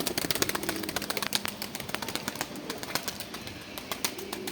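Pigeons in a loft make dense, close cooing and rustling, with quick wing flaps and scuffling taps running continuously throughout.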